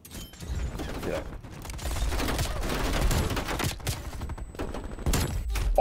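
Hand cannon gunfire in a first-person shooter video game: several sharp, loud shots and bursts with mechanical clicks in between, layered over game ambience and a player talking excitedly.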